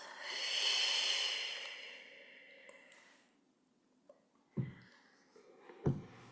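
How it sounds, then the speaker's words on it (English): Slow, calm breath drawn in through the nose and let out through the mouth: a long, soft airy inhale and exhale, followed by a few faint small clicks and light noises in a quiet room. "Inhaling through the nose and exhaling through the mouth."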